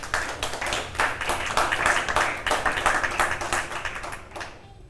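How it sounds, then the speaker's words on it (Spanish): A church congregation claps loudly and steadily for several seconds, a dense, even patter of many hands that fades out at the end. "Dale un fuerte aplauso al Señor."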